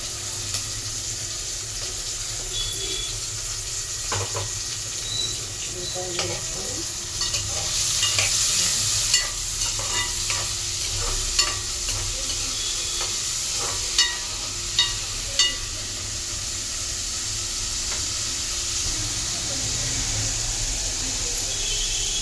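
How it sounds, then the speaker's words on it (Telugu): Curry leaves and onions fry in oil for a fish curry, a constant close sizzle with repeated spatula scrapes and stirring knocks against the pan, rising briefly louder partway through. "కరివేపాకు చిరపట్లాడాక ఆనియన్స్, ఉల్లిపాయలు వేసుకుంటాం"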